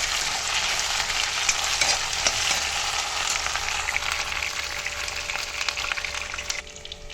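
Potatoes frying with ginger, garlic and cumin paste for a banana flower curry, a steady close hiss and sizzle with faint stirring scrapes running unbroken throughout.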